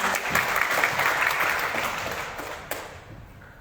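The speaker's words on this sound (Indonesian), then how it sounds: "Kita berikan tepuk tangan yang" An audience claps at an inauguration ceremony of a regional youth committee in East Nusa Tenggara, sustained applause that gradually fades toward the end.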